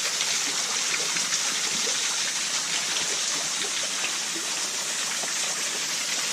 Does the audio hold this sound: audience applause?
no